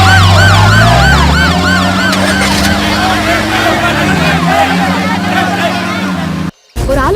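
A loud wailing siren sweeps up and down continuously over engine rumble. It cuts out briefly near the end, then resumes.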